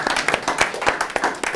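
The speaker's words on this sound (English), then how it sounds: "Give yourselves a round of applause, audience" An audience breaks into a short burst of dense, close clapping that lasts just over a second.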